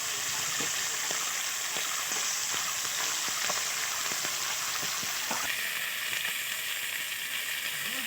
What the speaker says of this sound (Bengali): এবার বাকি যে মাছগুলো আছে এবার ভেজে নেবো। দেখো একই রকমভাবে ভেজে নেবো।